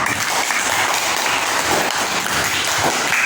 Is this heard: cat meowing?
no